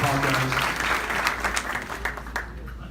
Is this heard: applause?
yes